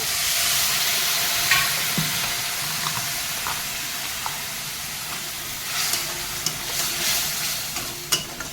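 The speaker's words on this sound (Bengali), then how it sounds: "একটু নাড়াচাড়া করে ভেজে নিয়েছি" Spices are stirred and fried in a pan for a chana dal dish: a constant close sizzle and hiss, broken by occasional scraping clicks of a utensil, with no speech.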